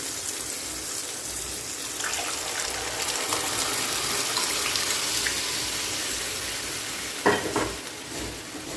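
Lentils pressure-cooked to three whistles are tipped into freshly fried spices in a pan and stirred, giving a steady close sizzle with scraping stirs and a sharper clatter near the end.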